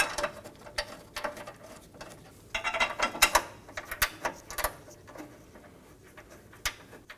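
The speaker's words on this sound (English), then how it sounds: "I'm going to hand thread on my 2 13mm bolts." Two 13mm bolts hand-threaded onto radiator support bars of a 2011 Dodge Durango 5.7L V8, giving small irregular metallic clicks and ticks, close and fairly quiet, busier in the middle stretch.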